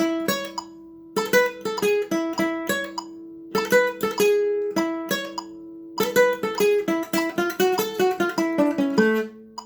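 A flamenco guitar plays a quick rumba melody of sharply picked notes in phrased bursts with short pauses, solo and close.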